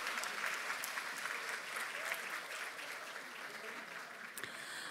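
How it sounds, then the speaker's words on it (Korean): Large hall audience applauding at a political party's 70th anniversary ceremony, steady massed clapping for several seconds, fairly distant and tapering slightly toward the end. "다시 한번 큰 박수 부탁드립니다."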